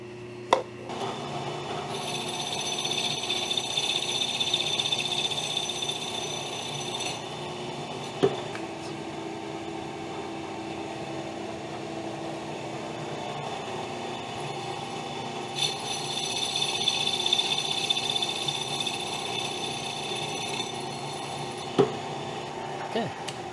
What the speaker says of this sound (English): We're going to put the boring bar in now and just make a nice small cut on each one.